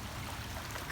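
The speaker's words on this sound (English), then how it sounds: "Ooh, this is a swift moving current." Swift floodwater rushes through a swollen creek in Kannapolis during flooding, a steady broadband churning flow heard up close with no talking.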